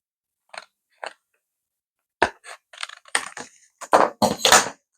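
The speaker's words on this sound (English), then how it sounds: "I could just cut off this corner here" Scissors snip off the corner of a piece of paper or card to make a small gift tag, giving two short isolated cuts followed by a denser run of crisp snipping and crunching, close and clear with no talk.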